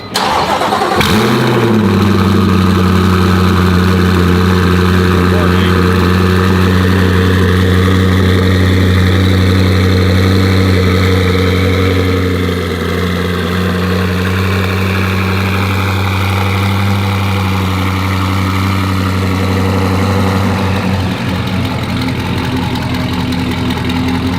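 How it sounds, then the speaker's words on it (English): A twin-turbo C8 Corvette engine cranks and fires up from cold, then settles into a loud, steady, deep idle with a low rumbling drone that holds throughout. "cold starts always sound so good"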